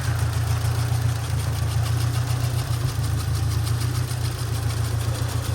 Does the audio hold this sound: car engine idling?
yes